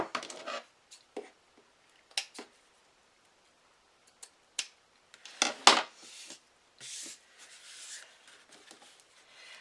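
Scissors trimming a poly burlap flower, a series of sharp, scattered snips and crisp clicks, close and fairly quiet with short silences between cuts and no talk.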